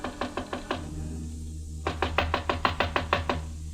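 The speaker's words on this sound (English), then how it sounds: "I knocked on Jan Svenson's door." Knuckles rapping on a hotel room door, two bursts of sharp, evenly spaced knocks: a first run of five, a brief pause, then a longer insistent run of about nine, close and distinct.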